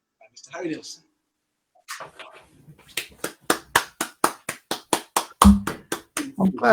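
After some brief speech and a pause, one person claps their hands in a steady, evenly spaced series of about fourteen sharp, close claps, with a little talk near the end.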